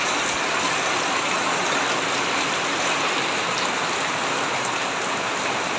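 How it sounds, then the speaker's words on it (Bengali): Heavy storm rain pours steadily in the morning, a dense, loud, continuous hiss of rain on surfaces with no break across the whole stretch. "অনেক ঝড় বৃষ্টি হয়েছে, অবস্থা খুবই খারাপ"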